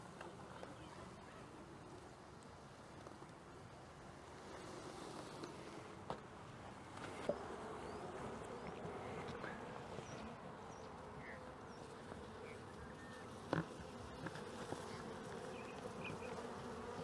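A swarm of honeybees clustered on a fence drones in a steady, dense buzz at moderate distance, with a few faint knocks and handling sounds over it.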